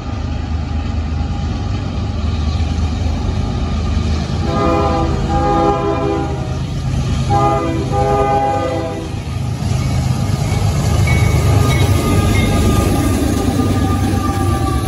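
A CSX freight train hauling tanker cars rolls past close by, its horn sounding in two sustained blasts over the steady rumble and clatter of the wagons.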